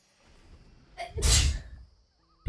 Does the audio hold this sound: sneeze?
yes